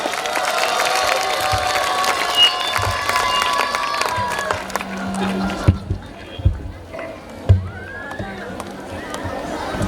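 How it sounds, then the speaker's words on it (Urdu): Audience applause at a children's festival event in a hall, a continuous dense patter of clapping for about six seconds that then thins out into scattered claps and crowd noise. "ایک اور مرتبہ تالیاں۔"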